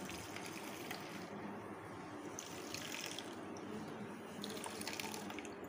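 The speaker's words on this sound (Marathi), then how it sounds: "कोमट पाणी घालायचं." Lukewarm water poured in while making solkadhi, a steady faint running and trickling of liquid that continues throughout without talk.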